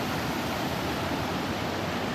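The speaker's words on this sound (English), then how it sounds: "It's literally like a waterfall." Water pours over St Pancras Lock (number 4) on the Regent's Canal like a waterfall, a steady, dense roaring rush close by with no breaks.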